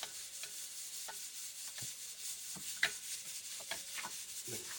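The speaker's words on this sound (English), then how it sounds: "You need to fry the garlic perfectly until it's golden brown." Garlic fries in oil toward golden brown, with a soft continuous sizzle and scattered scraping stirs and clicks of a utensil in the pan, close and fairly quiet, with no voices.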